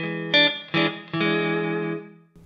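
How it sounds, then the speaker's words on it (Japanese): An electric guitar played through a Headrush effects unit with a clean tone, light compression and light reverb sounds three strummed chords, each ringing out and decaying smoothly, with a brief fourth attack at the very end. "これが、コンプがちょっと入ったりとかして、"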